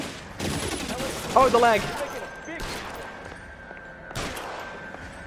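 Bursts of gunfire in the L.A. Noire video game: sharp, rapid shots in a few clusters over a steady game background, with someone talking excitedly over them.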